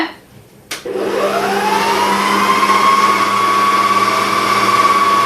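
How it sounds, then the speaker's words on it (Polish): An electric mixer starts with a sharp click and spins up to a loud, steady whine while blending honey cake batter made without sugar, running continuously close by. "Teraz wszystko miksuję."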